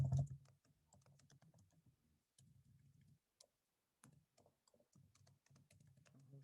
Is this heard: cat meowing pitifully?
no